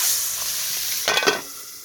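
Tengra fish frying in hot oil gives a steady sizzle, then a brief louder burst of crackling spatter as the fish is turned or stirred, close and without voices.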